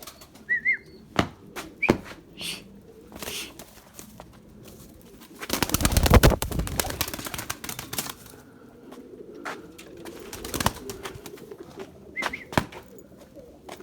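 Pure Erzurum white pigeons at their loft, with a few soft coos and sharp wing claps, then a loud burst of flapping as birds take off around the middle, followed by more scattered wingbeats nearby.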